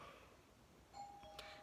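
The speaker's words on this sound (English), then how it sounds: "the doorbell rang" A home doorbell rings once, a faint electronic tone sounding briefly over quiet room ambience.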